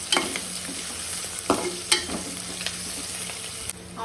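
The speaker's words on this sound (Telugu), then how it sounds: "ఆనియన్ అయితే గోల్డెన్ బ్రౌన్ కలర్లో అయితే వేయించుకోవాలి" Onions frying in a pan for mutton curry keep up a close, steady sizzle, with spatula stirs and scrapes that bring sharp clicks every second or so.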